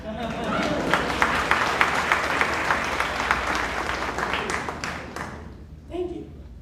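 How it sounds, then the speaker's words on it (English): An audience at a college convocation breaks into applause, a dense burst of clapping that fades out after several seconds, followed by a voice speaking. "Oh, you want to clap? You can clap."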